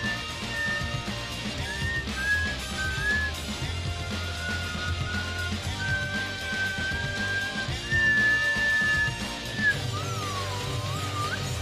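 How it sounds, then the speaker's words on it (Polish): A person whistles a long, wandering tune while riding a bike, the clear melody running throughout over steady wind and road noise. "potrafię gwizdać, jakby ktoś się zastanawiał"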